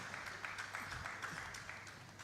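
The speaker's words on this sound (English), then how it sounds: "A round of applause to encourage him as he comes up." Faint applause from an audience at a Parkinson's disease symposium, a steady patter of clapping heard from a distance with no voices over it.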